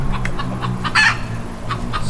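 Ancona bantam chickens cluck close by in a series of short, repeated calls, with one louder squawk in the middle over a low background hum.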